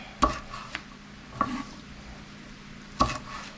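Knife chopping chili peppers on a cutting board for a chicken karahi: a few sharp, separate cuts spaced about a second apart, each a crisp thud against the board, close and clear over a quiet background.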